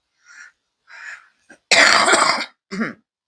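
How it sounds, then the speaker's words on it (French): A person coughs several times: short throat-clearing bursts, then a harsh, longer cough and one final cough, close and loud. "j'essaye de pas tousser dans le micro"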